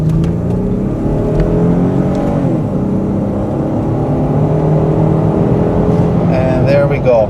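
A 2015 Ford Expedition XLT's 365-horsepower engine pulls hard through a 0-60 run, a steady loud drone heard from inside the cabin with rising tones and a faint gear shift whine near the end.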